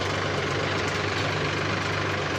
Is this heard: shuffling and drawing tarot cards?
no